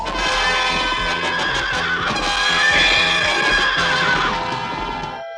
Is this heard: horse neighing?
yes